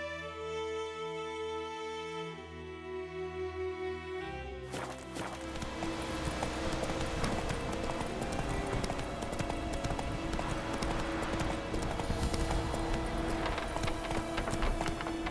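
Roach the horse in The Witcher 3 video game, with a few seconds of music giving way to steady rhythmic clip-clop hoofbeats that keep going at a trot.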